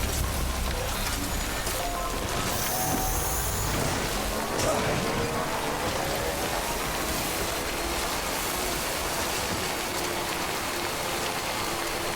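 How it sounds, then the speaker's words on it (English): Heavy rain pours down in the Death Stranding game world, a dense, constant hiss that stays loud and even throughout, with no voices over it. "Hurry up, we're getting rain now."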